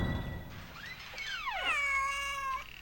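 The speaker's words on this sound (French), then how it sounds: "C'est un chat. Vous reconnaissez pas un miaulement de chat?" A cat gives one drawn-out meow with a rising then falling whine, clear and close, following a brief rustle.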